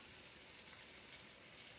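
Onions sizzle on a grill for a portobello mushroom burger, giving a faint, steady crackling hiss with no breaks and no voices.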